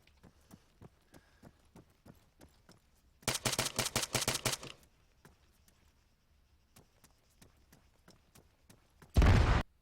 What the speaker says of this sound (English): Explosive charge.